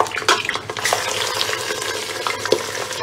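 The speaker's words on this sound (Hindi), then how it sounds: "अदरक लहसुन का पेस्ट डाल के कीमे को भी इसके साथ अच्छा सा हमने भून लेना है" Minced beef keema with onions frying and being stirred in a pot, with a steady sizzle under repeated scraping and clinking of a spoon against the pan, close and continuous with no talk.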